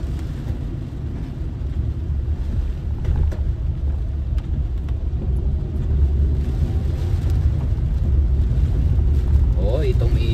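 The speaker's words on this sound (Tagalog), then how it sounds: "Karon na ta mag tahaw-tahaw ang hangin, ah." Strong typhoon wind sweeps through Iloilo City as a loud, continuous roaring rumble that swells slightly as it goes on.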